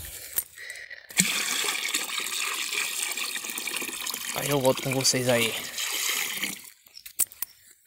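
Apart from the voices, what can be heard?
water being poured to refill a container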